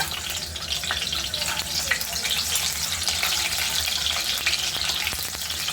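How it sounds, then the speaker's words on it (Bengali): Whole boiled eggs, scored with a fork, fry lightly in hot oil for an egg korma, producing a loud, dense, continuous sizzle with frequent small crackles and spatters up close. "এখন আমি ডিমগুলোকে হালকা ভেজে নেব।"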